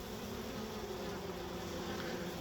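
A honey bee swarm hums in a steady, faint, continuous drone, a low buzzing texture with no pauses.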